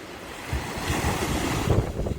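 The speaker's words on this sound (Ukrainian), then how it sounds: "Дуже красива природа, дуже чарівний океан, Атлантика лагідно зустріла нас." Atlantic Ocean surf in the Canary Islands rolls and washes continuously, with gusting wind buffeting the microphone and a loud, close rumble of breaking waves.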